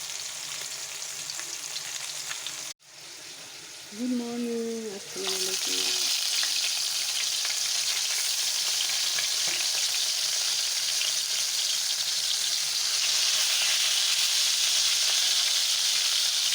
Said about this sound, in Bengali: এদিকে মাছ ভাজা বসিয়ে দিয়েছি।